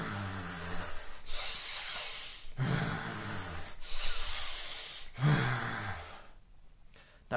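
Slow, deep breathing during a calming exercise, with several long inhale-and-exhale cycles of airy, fairly loud breath, ending in a quieter pause.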